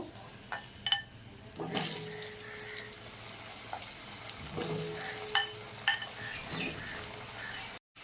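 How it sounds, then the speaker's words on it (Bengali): Cut potatoes fry in hot oil left over from frying katla fish for a fish curry, giving a steady low sizzle with occasional clinks and scrapes of a utensil and a brief watery splash. "এই তেলেই আমি আলুটা ভেজে নেব।"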